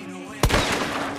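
A single loud gunshot from a weapon in the video game Hunt: Showdown, a sharp crack followed by a short rumbling tail, set against a low steady background.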